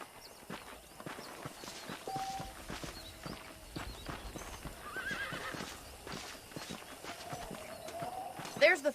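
Horses whinny and neigh amid clip-clopping hooves in a Red Dead Redemption ranch scene in Mexico, with a loud whinny near the end and someone talking over the steady hoof sounds.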